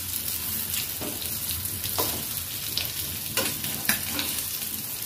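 Fish sizzles steadily in oil in a frying pan, with several scraping clicks as a spatula turns the pieces; continuous close frying hiss with no talk.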